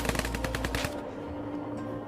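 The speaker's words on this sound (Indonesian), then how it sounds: "mereka mendengar suara tembakan dari arah lain" Rapid burst of gunfire in a film scene, several sharp close shots in quick succession during the first second, then fading into a low, tense hum with no talk.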